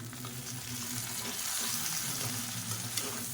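Drumstick and brinjal pieces sautéing in a pan with salt, a dense even sizzle with soft stirring underneath, close and continuous, no voices.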